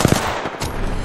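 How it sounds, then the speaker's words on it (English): Rapid gunshots in Apex Legends on Nintendo Switch, season 15, with a pair of sharp close reports at the start followed by dense continuous firing and battle noise. "Shot fired, and they're hitting me"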